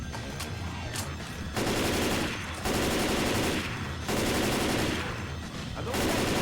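Gunfire in Left 4 Dead 2 on Xbox 360 rattles in loud, dense automatic bursts. Each burst lasts about a second and is separated by short gaps.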